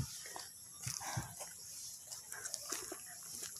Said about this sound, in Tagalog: Oh, isang aso.